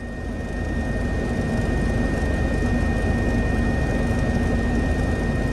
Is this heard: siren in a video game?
no